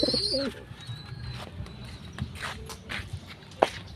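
Pigeons, including a blue bar, cooing in a loft: low burbling coos up close at the start, then quieter scattered calls, shuffling steps and a sharp knock near the end.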